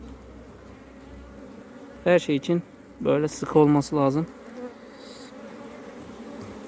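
Steady buzzing of many bees around a hive throughout, with someone talking over it in short phrases.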